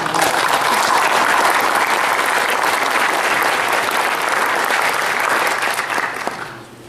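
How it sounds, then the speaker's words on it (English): An audience claps loudly and steadily for several seconds, a dense wash of applause that fades out at the end. "a round of applause for our Board of Governors."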